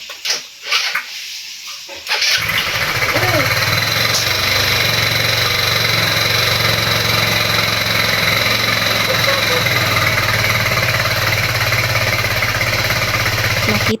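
SYM Super G125 motorcycle engine idling steadily after a new muffler is fitted, a loud continuous low hum and rattle that starts abruptly after two seconds of quieter handling noise and runs unbroken.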